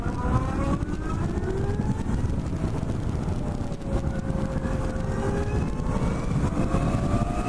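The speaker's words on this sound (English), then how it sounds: "You can hear the electric whining sound, which is excellent." A 2017 Zero DSR electric motorcycle ridden in sport mode gives a steady whine whose pitch rises and falls with speed, partly buried under loud, constant wind rush and road roar.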